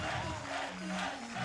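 A Spanish home crowd at a trial competition cheers and shouts in a sustained, fairly distant roar, with sung or chanted tones running through it.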